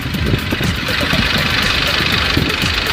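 A tractor engine rumbles steadily and low throughout, with a rough, chugging mid-range drone and faint knocking.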